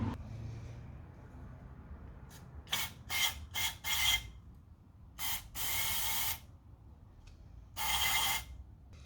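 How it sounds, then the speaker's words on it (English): Sensor cleaner sprays onto an engine sensor of an RB25 Neo-powered R31 Skyline in a string of short, sharp aerosol bursts and one longer hiss, near and loud against a quiet background. "So I'm just gonna spray the crap out of it."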